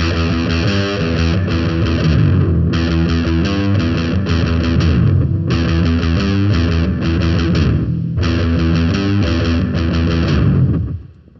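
Heavily distorted electric guitar riff played loud through a Katana amp, chugging chords in repeated phrases, then cut off at the end.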